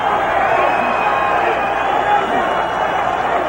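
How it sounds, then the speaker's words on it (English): Boxing crowd at the Roberto Duran vs Vinny Pazienza fight roaring and applauding steadily at the close of a round, a dense, continuous wash of cheering and clapping with no gaps. "Crowd starting to applaud the end of the fight"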